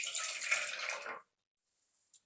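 Water pours steadily from a tap into an idli steamer pot in a home kitchen, a continuous splashing rush lasting about a second before stopping, followed by a faint clink.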